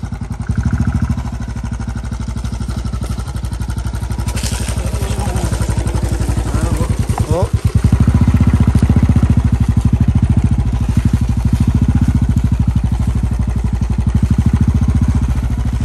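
A motorcycle engine idles steadily and fairly loud up close, with a low rumble running throughout and some clatter and a brief revving around the middle, and no talking.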